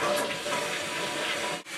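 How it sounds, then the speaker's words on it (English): A toilet test flush during fill valve replacement gives a short, loud rush of water that cuts off abruptly at the end. "Let's give it a test flush."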